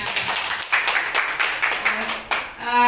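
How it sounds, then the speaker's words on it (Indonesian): Audience applause at a school gathering, a run of clapping with sharp repeated bursts that swell and fade over a few seconds, ending as a voice begins. "Kita kasih aplaus dulu semuanya."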